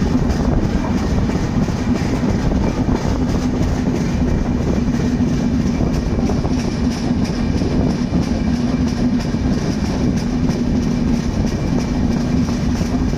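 A train rolls past steadily with a loud, continuous low rumble and rattling wagons throughout, heard up close.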